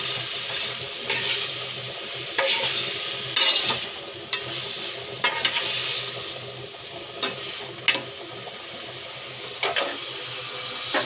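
Fish and potato curry stirred in a pan after salt goes in, a steady loud sizzle running throughout with intermittent scraping strokes of the spoon against the pan.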